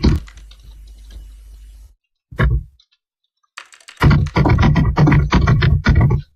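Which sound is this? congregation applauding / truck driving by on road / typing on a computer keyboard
typing on a computer keyboard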